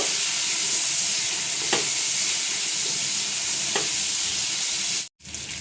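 Potatoes with salt and turmeric frying in a pan make a constant close sizzle and hiss, with two faint spatula scrapes, before the sound drops out abruptly near the end; nobody speaks.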